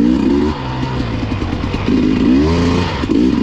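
An enduro motorcycle rides on an icy track, its engine loud and close, revving up and down unevenly as the rear wheel slips on the ice.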